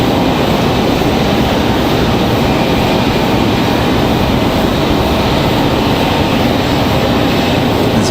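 JetBlue flight 2283 from Boston arrives at Raleigh Durham International, a loud, unbroken roar of jet engine noise filling the whole stretch with no voices.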